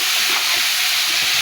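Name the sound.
bamboo shoots frying in oil with dried chillies and cumin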